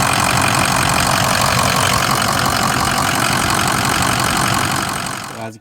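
A Ford 6.0 Powerstroke diesel engine runs at a steady idle, loud and close, with a dense, even rumble and no talk, then cuts out abruptly near the end.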